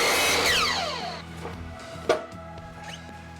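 A power saw finishes a cut through a 6-inch piece of wood, a loud whining buzz that spins down over about a second, followed by a few light knocks and clicks nearby.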